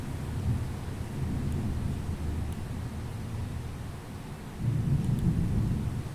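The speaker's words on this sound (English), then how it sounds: "there is a heavy rain in Rajkot at present" Heavy rain falls in Rajkot with thunder rumbling low and steady, a continuous wash of rain noise that swells louder near the end, with no voices.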